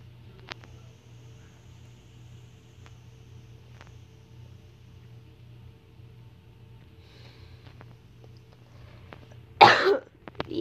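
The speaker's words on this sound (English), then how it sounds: "so I'm gonna be coughing a lot" A sick person lets out a sudden, loud burst of coughing near the end, after a long stretch of quiet room hum with a few small faint clicks.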